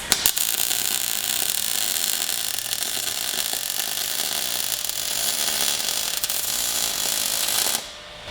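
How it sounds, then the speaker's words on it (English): A new 240V shop welder welds Schedule 40 pipe to a 3/16 inch steel block, giving a steady, loud, crackling hiss that runs close and unbroken for about eight seconds before cutting off, with no talking. "Right now I'm welding, Schedule 40 pipe to a 3/16 inch steel block"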